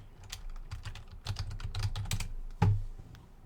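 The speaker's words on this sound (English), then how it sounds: "That's what I was going to do next, is type that in." Quick, close clicks of a computer keyboard being typed on in short irregular bursts, ending with a slightly heavier keystroke, all fairly quiet with no voices.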